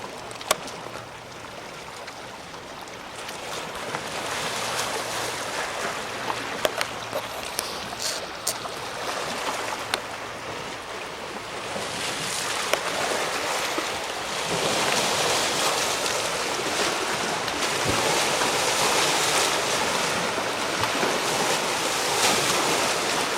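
Waves on Lake Erie wash and churn in a broad, continuous roar with wind mixed in and scattered splashes, steady and fairly loud for the whole stretch, with no voices.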